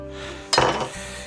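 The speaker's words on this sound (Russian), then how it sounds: "Итак, здесь моя любимая сковородка." A favorite frying pan is set down and handled on a stovetop with one sharp metallic clank and a brief ringing tail, alone over quiet kitchen background.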